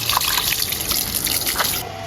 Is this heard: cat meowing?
no